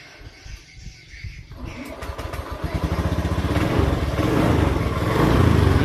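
A Honda Beat scooter, its starter fault showing MIL code 52, is cranked and its engine catches about a second and a half in, then idles up into a steady, close, rising putter with no voices over it.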